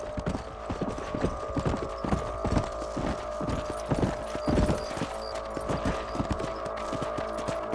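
Horse hooves clip-clop at a steady trotting rhythm while riding in Red Dead Redemption, close and clear over a low hum, with no talking.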